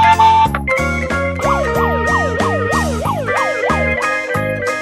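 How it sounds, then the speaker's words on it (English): A cartoon-style police car siren wails in a steady rising and falling sweep, loud and close, over a bouncy children's music backing with no talk. "police car,"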